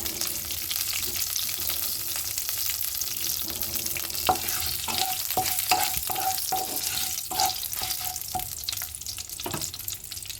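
Fenugreek and other tempering spices hiss and crackle in hot oil, with a spoon scraping and tapping the pan in a quick run of strokes midway, close up and without talk.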